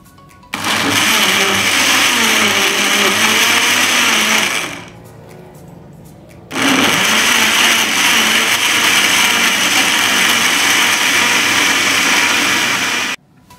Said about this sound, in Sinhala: හරි එහෙනම් අපි දැන් අපේ juice එක blend කරගන්න යන්නේ